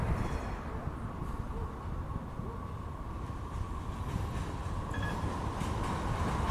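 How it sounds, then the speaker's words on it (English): A two-car Siemens light rail train on the N Judah line passes inbound at 28th Avenue, a steady rumbling roar with low mechanical noise holding at an even level throughout, with no talk. "this is a two-car Siemens train in Judah Caltrain Ballpark going inbound"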